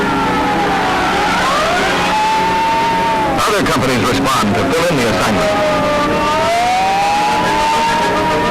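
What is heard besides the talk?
fire engines rolling out of station with sirens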